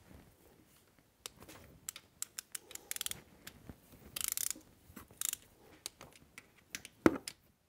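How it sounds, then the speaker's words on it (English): A ratchet tightens the bolts holding down a remote oil cooler on a 6.0 engine, making quiet, close bursts of rapid clicking separated by short pauses, with no voices. "Install the 10 bolts holding it down. And then torque them to 16 foot-pounds."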